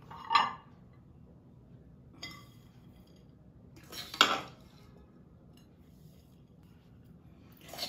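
A few separate clinks of a spoon against a plate as sweet gond pinni is moved onto it, spaced out with quiet gaps between them, close and fairly soft.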